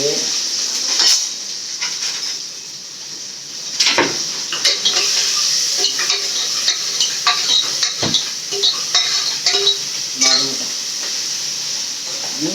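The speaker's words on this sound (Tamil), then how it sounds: "கடுகு பொரிஞ்சிச்சு. கருவேப்பிலை, வெங்காயம் போட்டுக்கலாம்." Curry leaves and onion fry with popped mustard seeds for a mutton dish, making a bright continuous sizzle with frequent stirring clinks and scrapes of a spoon in the pan, close and fairly loud.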